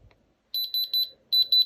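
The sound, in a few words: beeping of Diamond Selector II tester detecting diamond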